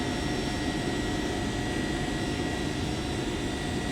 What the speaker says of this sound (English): What's that noise? It's the engine.